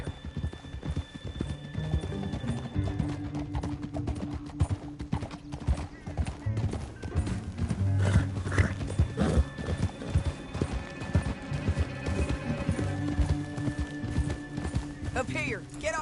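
Horses gallop in Red Dead Redemption 2 with rapid, steady hoofbeats and an occasional whinny, set against a music score, while voices talk over the ride.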